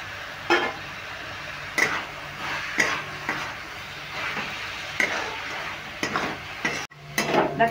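Chicken sautéing in a pan with meat masala for a pasta dish, heard as a low sizzle broken by repeated scraping stirs and occasional utensil knocks against the pan, close and without speech.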